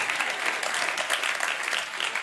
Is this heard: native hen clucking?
no